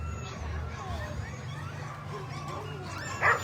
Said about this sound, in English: Here's her dog team.